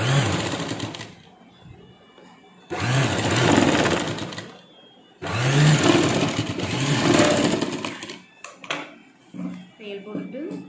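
A sewing machine runs in three loud bursts of top-stitching on a blouse, each run a few seconds long with pauses between, then fabric handling clatter follows.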